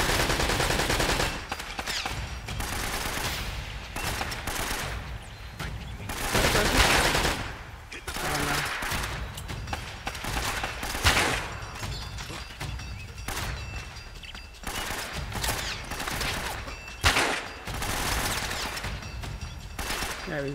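Gunfire in Uncharted: Drake's Fortune, repeated bursts of shots and rapid automatic fire over a dense, continuous game soundtrack, moderately loud and steady throughout, with occasional voices in the mix.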